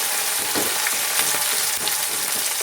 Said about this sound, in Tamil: இப்போ வந்து நம்ம கொஞ்சம் கருவேப்பிலை இதெல்லாம் போட்டுக்கலாம் இதுவும் நல்லா வதங்கணும்